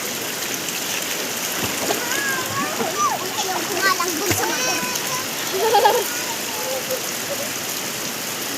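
Cold spring water pours steadily from an outdoor shower, a constant hissing splash with brief louder spatters as a child and adults chat close by.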